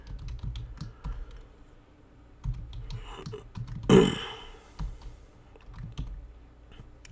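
Keys clatter on a computer keyboard in a run of quick, close taps with brief pauses and one louder thump near the middle, with no talking.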